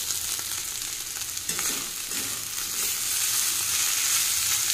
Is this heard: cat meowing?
no